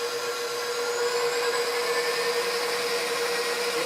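An electric mixer whirs steadily through pumpkin bread batter with butter, a continuous close motor hum with a strong tonal whine that holds even throughout, no talking.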